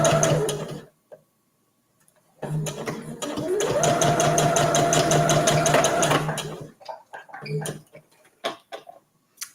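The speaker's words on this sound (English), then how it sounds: "we're just going to stitch directly over this line. Back stitch, beginning and end" Sewing machine stitching a seam on fabric for a reusable gift bag, a short burst, a pause, then a sustained whirring run of several seconds, finished with a few short back-stitch bursts.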